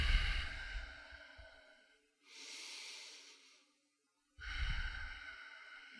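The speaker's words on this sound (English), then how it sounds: "And as you continue to breathe" Slow, deep yoga breathing in a quiet room: a long exhale, a softer inhale after a short pause, then another full exhale, close and alone without talk.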